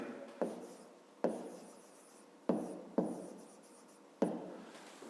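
Pen writing out a math solution on paper, close scratchy strokes starting in five separate bursts, each fading out, with no voices.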